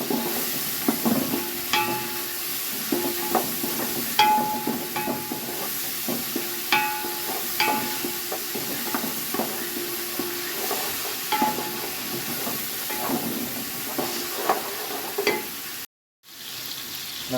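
Tomatoes frying with mixed vegetables in a pot for pulao, a continuous crackling sizzle with frequent scrapes and taps of a spoon stirring, close and steady, no talking, with a brief dropout near the end.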